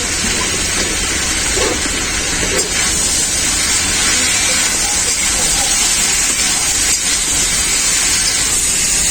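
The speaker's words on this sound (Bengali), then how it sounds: "আদাটাকে সবজির সাথে খুব ভালো করে ভেজে নিয়েছি" Vegetables and potatoes frying with ginger paste in a hot pan give a steady, loud hissing sizzle that runs unbroken throughout.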